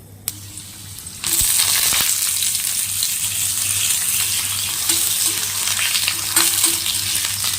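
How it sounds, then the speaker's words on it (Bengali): Potatoes sizzle steadily in hot oil in a wok with dried red chilli and nigella seeds, a loud continuous frying hiss that jumps up after a quiet first second, broken by occasional scrapes of stirring. "এই আলুটা আমি নাড়ছি এখন আলুটা একটু ভাজা ভাজা হয়ে আসবে"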